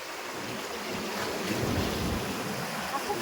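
Continuous wash of sea surf rolling in, mixed with gusty wind buffeting the microphone; no distinct voices stand out.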